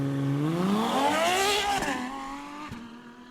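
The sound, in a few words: Ferrari F12 TDF sports car engine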